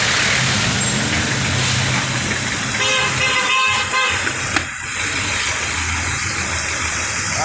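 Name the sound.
road traffic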